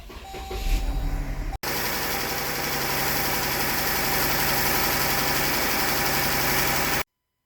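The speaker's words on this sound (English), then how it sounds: "Okay, so we're going to start the vehicle." A car engine cranks and catches, then settles into a loud, steady idle with a constant rumble during fuel injector testing, and the sound ends abruptly.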